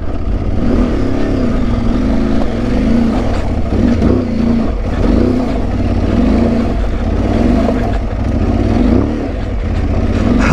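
An Aprilia Tuareg 660 motorcycle climbs a wooded trail in the Yorkshire Dales, its engine droning loud and close with a steady pulsing rhythm as traction control repeatedly cuts power.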